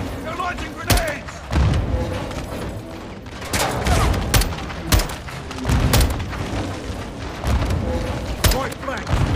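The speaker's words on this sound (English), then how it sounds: "They're launching grenades!" Heavy gunfire and grenade blasts in the Modern Warfare II campaign, with repeated sharp shots and booming explosions throughout, loud and close, while voices shout over the battle.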